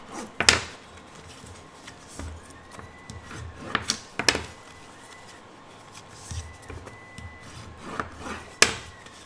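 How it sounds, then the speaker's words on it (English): Folds of a paper card are burnished by hand, producing quiet, sparse rubbing and scraping strokes in short irregular bursts, close by, with soft pauses between them. "we're going to burnish all of these folds"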